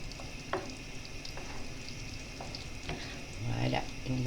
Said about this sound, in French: on va bien mélanger tout cela et laisser cuire encore quelques minutes